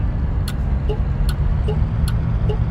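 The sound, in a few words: car engine in a driving video game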